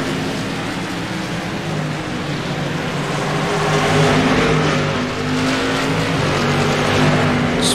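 Modified race cars roar around Lanier National Speedway, engines droning loudly and steadily with rising revs as a car accelerates out of turn two under low traction.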